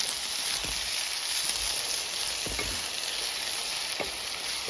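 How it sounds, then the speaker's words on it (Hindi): Steady, bright sizzling of onions and spices frying in hot oil for matar masala, with occasional soft stirring scrapes and no talking. "ये जो प्याज है इनको हम अच्छे से पहले फ्राई कर लेंगे इस तेल में और इन मसालों के साथ।"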